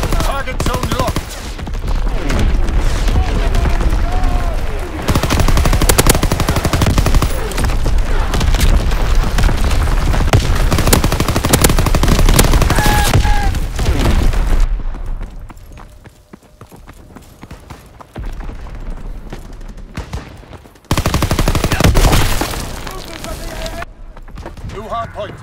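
Fire-strike barrage in Call of Duty WW2 multiplayer, a dense run of loud booms and rapid gunfire that drops off, then bursts back, with radio-style voice lines over it.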